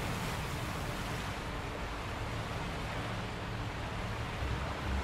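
Steady rushing water from a waterfall beside a building in the video game Sekiro, a broad, even roar that holds constant throughout with no voices over it.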